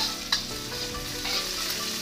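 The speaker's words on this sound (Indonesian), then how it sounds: "Setelah minyak panas, tumis ikan asin," Salted fish stir-frying in hot oil in a wok, a steady close crackling sizzle with a scrape of stirring near the start, continuous and without talk.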